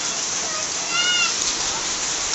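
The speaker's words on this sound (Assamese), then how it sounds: "বাহিৰত একদম এনেকুৱা মানে বৰষুণ আৰু শিল" Heavy rain mixed with hail falls outside on a wedding day, a dense, steady hiss that barely changes across the whole stretch, with a faint tonal voice-like sound rising briefly in the middle.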